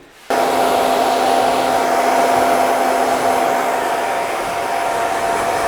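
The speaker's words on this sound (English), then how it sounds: "I'm just going to finger dry this" A hair dryer switches on and blows hair in a loud, steady, close whir that holds unbroken for several seconds with no voices.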